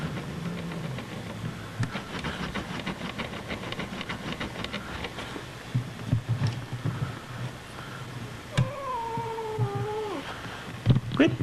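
A tabby cat living under a bed growls and yowls, with low rumbling phrases, a few sharp noises and a rising-falling caterwaul near the end, recorded close in a quiet room.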